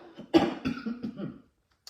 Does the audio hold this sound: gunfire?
no